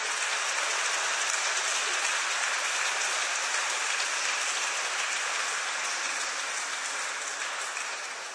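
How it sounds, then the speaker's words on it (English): Dense, steady applause fills a church during its dedication ceremony, an even hiss-like wash of many hands clapping that tapers slightly at the end. "A round of applause to them."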